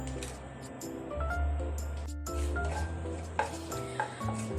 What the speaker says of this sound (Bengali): ভালো করে জিরে, শুকনো লঙ্কা, তেজপাতা ভেজে নেব।